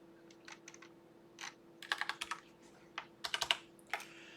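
Someone types on a computer keyboard in short bursts of quick, close keystrokes with brief pauses between them. A steady low hum runs underneath, and no one speaks.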